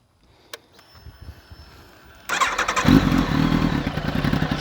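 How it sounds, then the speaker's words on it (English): After a quiet moment with a small knock, a modded 2004 Kawasaki ZX-10R sport bike fires up abruptly and its aftermarket exhaust barks through several loud, close revs. "I'm going to crank this bike up for you a little bit just to let you hear this exhaust and rev it up a few times."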